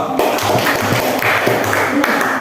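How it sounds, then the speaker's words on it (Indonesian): A classroom of students clapping for a group after its office-management presentation, a short dense burst of applause that stays steady throughout, with a few voices faintly underneath. "Tepuk tangan untuk kelompok 2."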